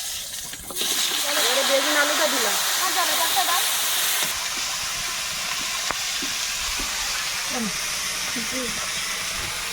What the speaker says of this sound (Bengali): চিংড়িও ভাজা সব জল দিয়েই ভাজা